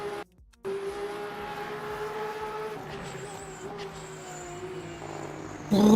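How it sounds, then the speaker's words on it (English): A race car engine in Le Mans Ultimate at Spa drones steadily at a distance, with a brief dropout early on and a louder burst of revving at the very end. "Man, that car sounds good though."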